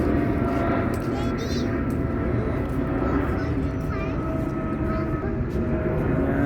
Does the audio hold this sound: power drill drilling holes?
no